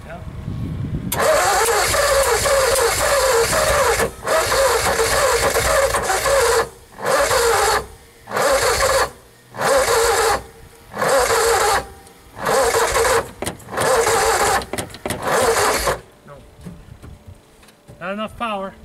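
1959 Ford Custom 300 cranking on a cold start after sitting outdoors for 46 years: a long continuous starter grind, then a series of short repeated cranking bursts with pauses, ending in quiet, voices faintly around it.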